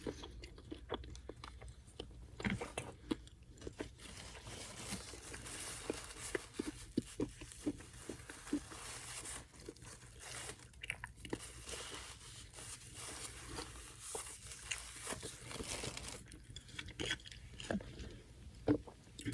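Someone eats fries close to the microphone, with soft, irregular chewing and crunching that carries on throughout, mixed with small rustles and occasional louder bites, and no speech.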